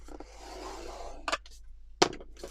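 Paper for a junk journal pocket page is scored with a tool, giving a soft continuous scrape followed by two short sharp scratches near the end, close and quiet with no talking.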